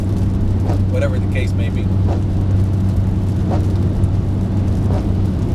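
A car on the road, heard from inside as a steady low engine and road rumble that holds throughout while a person talks over it.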